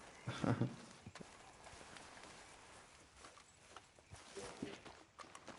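A horse walks in the Red Dead Redemption 2 video game, its hooves giving a quiet, steady clip-clop over soft outdoor ground, faint and unhurried, with no talk over it.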